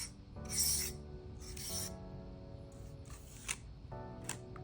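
A small brush scrubs along the horizontal key rows of a Keychron K3 mechanical keyboard, giving soft raspy rubbing strokes in a few bursts with light clicks, close and quiet.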